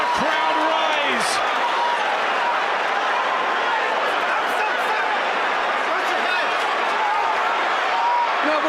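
A large boxing crowd rises and cheers during the Mayweather vs Mosley fight, a dense, loud, sustained roar of many voices with a few louder shouts on top.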